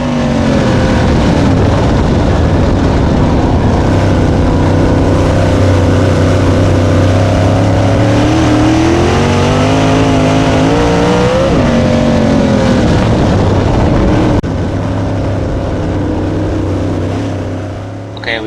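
USAC Silver Crown race car lapping Port Royal, its engine roaring loud and close throughout, the pitch rising and falling as it digs off the corners, then easing near the end.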